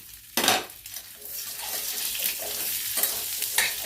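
Small onions sauté in sesame oil in a pan, a close sizzle broken by several sharp scraping and clanking strokes of the spoon against the metal as they are stirred.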